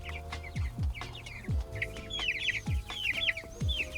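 Young meat chickens, still downy and starting to feather out, cluck and peep close by in a small homestead coop, with repeated short calls in an uneven chatter over a low steady hum.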